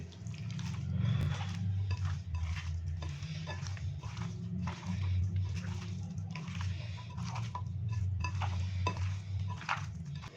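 Raw chicken being mixed in a bowl with ginger-garlic paste, salt and red chili powder: repeated close clinks and wet squelches in an uneven rhythm over a low background hum.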